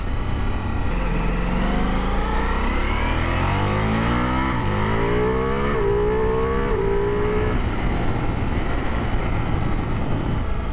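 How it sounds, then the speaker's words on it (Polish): A Ducati Multistrada V4 S motorcycle engine accelerates through several gears, its rising tone climbing, dropping at each shift and climbing again, loud and close over steady wind rush. "pięknie chodzi ten silniczek."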